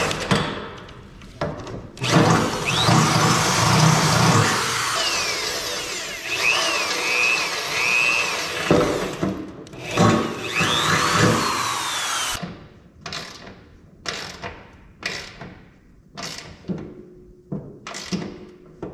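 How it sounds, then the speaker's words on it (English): A power drill bores holes through metal to bolt skid shoes onto a Honda HSS1332ATD snowblower, long loud whining runs with pitch sweeps, then a series of short bursts and clicks. "we're gonna drill some holes and bolt these on"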